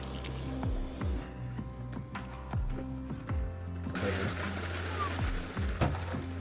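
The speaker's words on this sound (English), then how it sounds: "And I actually like to add a little bit of pasta water." Pasta water trickling into a cream and Parmesan sauce at a campsite with a pop-up camper, a soft dripping, splashing pour that is fairly quiet and thickens into a fuller, hissier flow partway through.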